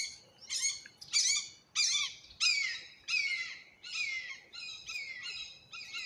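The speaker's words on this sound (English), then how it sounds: "Damn hawk called me to show me that it was going to fly away" A hawk calls repeatedly from a tree, about nine loud, clear, descending screechy cries spaced roughly half a second to a second apart, close to the listener with no other sound around.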